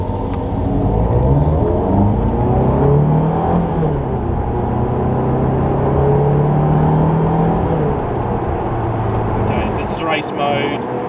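Ferrari 430 Scuderia engine pulling under acceleration in race mode, a loud steady drone climbing in pitch through the gears from inside the cabin, with a voice talking over it.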